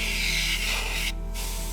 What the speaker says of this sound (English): Airbrush is a great tool, though.